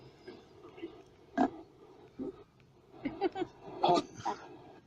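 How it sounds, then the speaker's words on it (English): Short grunting, pig-like oinks heard beside a road near Sheffield, several rough bursts spaced irregularly at moderate distance over a quiet background. "Sound like a pig, didn't it?"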